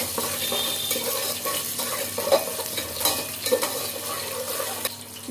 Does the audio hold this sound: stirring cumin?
yes